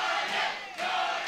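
Crowd of fans at the CageZilla 55 MMA event cheering in a broad, roaring wash that dips briefly in the middle, then swells again.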